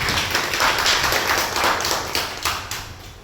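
A chiropractic treatment workshop audience claps for the presenter, a short, fairly close patter of many hands that swells and then tapers off.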